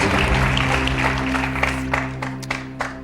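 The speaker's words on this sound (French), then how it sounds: "Applaudissements tardifs" Late applause from a French TV quiz show studio audience, steady clapping that stays loud for a few seconds under a low hum, with a few sharper claps standing out toward the end.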